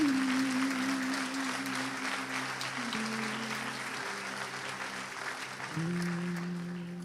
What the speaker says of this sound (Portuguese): ofereça a Deus a sua melhor salva de palmas.